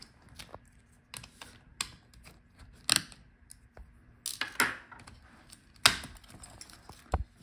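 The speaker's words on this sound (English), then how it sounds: "Now take out these two screws." Two screws being removed from a Dell Latitude 5320 laptop during disassembly, with scattered small metallic clicks and taps from a screwdriver at close range and no talk.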